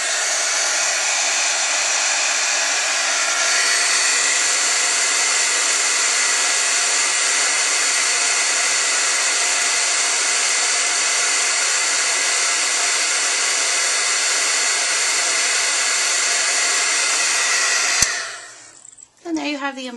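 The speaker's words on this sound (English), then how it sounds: "So I'm going to turn it on. It's going to be a little noisy, and then you can watch it heat up." A heat embossing gun blows hot air with a loud, steady whooshing roar that runs unbroken for about eighteen seconds before it shuts off with a brief clatter.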